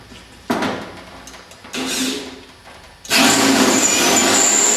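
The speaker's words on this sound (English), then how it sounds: "drill into the rear seatback panel" Power drill boring into a car's rear seatback panel, three bursts of close, loud whirring that grow longer, the last running steadily to the end.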